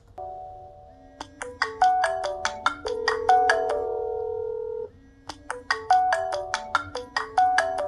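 A Mobvoi TicWatch Pro 3 smartwatch plays its incoming-call ringtone at high volume: a bright, melodic pattern of chiming tones repeated in two loud phrases with a short pause between them, heard alone with no talking.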